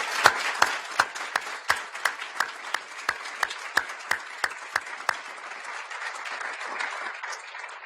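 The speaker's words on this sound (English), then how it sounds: "Let's give them all a rich round of applause." An audience at a live event announcing the Channel Island fox's removal from the endangered species list gives a round of applause: a thin, moderate clapping with a few sharp individual claps standing out, fading slightly toward the end.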